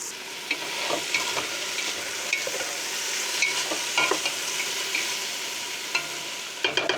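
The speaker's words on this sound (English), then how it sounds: "we're actually gonna add our tomatoes and let them saute for a little bit with the" Tomatoes and pork sauté in a pot at a campsite, with steady close sizzling and frying broken by a few sharp clinks and scrapes of stirring.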